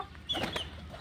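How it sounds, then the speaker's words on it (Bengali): A village rooster gives a brief, soft cluck close by, a single short call in an otherwise quiet moment. "এই যে মোরগটা দেখতেছেন"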